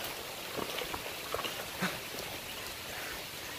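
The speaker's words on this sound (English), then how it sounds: "Me and Steven always get stuck in the rain" Steady rain falls over an outdoor field, a dense even hiss with scattered soft drop taps and no talk.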